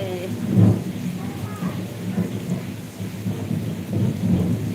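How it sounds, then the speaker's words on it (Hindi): Heavy rain pours steadily in Mirzapur, Uttar Pradesh, while low thunder rumbles and swells underneath, close and enveloping. "ओहो, इतना गर्जना हो रही है।"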